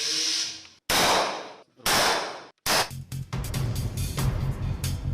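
Several sharp gunshots crack out during a military drill of troops clearing rooms and firing at targets, three separated bursts followed by a rapid flurry of shots, loud and close with echoing tails.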